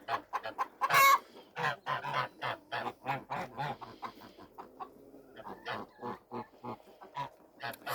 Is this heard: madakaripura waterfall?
no